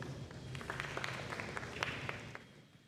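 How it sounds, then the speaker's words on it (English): Scattered applause and light cheering from an audience at a high school academic awards ceremony, faint and distant, with individual claps rising over a steady room murmur. "we'll cheer for you all once you get up here"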